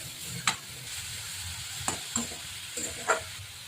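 Vegetables for egg rolls sizzle softly in a pan while a spatula stirs them, with a few sharper scrapes and clacks standing out above the quiet, even frying hiss.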